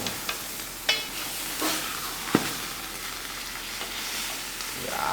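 Oil sizzles steadily in a refurbished cast iron pan as food sears, a continuous close hiss punctuated by a few sharp pops and spatters.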